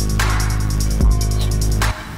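Textured synth pad without auto-pan, a steady sustained drone with a pulsing rhythmic shimmer in the highs, a brief swell near the middle, then dropping off near the end; no voices.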